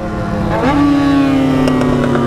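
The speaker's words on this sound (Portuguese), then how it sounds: "XJ tem um barulho alto pra caralho." A Yamaha XJ6 motorcycle engine revs up sharply and holds a loud, steady high drone, close by, outside a nightclub.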